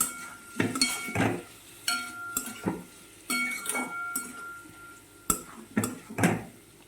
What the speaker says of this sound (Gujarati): ત્યાર પછી આપણે નાખીશું થોડા કાજુ એને પણ આપણે બરાબર મિક્સ કરી દેવાનું છે